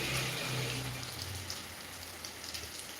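Rain falls steadily in Maharashtra on a Saturday afternoon, a dense hiss of drops on surfaces near a house, with a low rumble underneath, continuous and moderately loud throughout.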